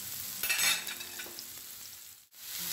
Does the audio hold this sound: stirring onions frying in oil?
yes